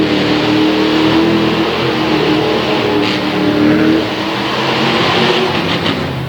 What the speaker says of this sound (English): foot to the floor in Master of Disaster spinning, blowing the tires off on the line